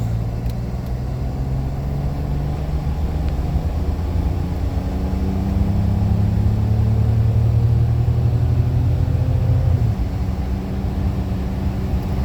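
A BMW 750iL E32 with a new fuel pump accelerates hard from a standstill, its engine heard from inside as a steady, loud, rising drone with shifting gear pitch over a constant road rumble, no voices.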